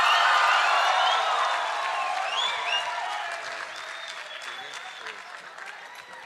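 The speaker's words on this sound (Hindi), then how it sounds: "तालियां नहीं रुकनी चाहिए" Big crowd applause with whoops and cheers as a multi-talented singer is welcomed on stage, starting loud and gradually thinning, with a few shouted voices over the clapping.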